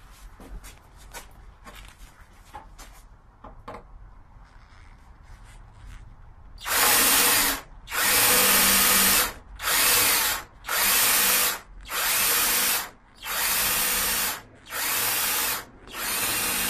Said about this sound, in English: So we're using this hole cutting bit.